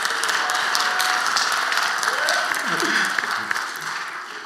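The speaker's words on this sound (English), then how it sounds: "Can we just give a moment to clap a little bit louder?" An audience at a live event applauds, a steady wash of clapping that stays even and moderate before tapering slightly, with a voice speaking over it.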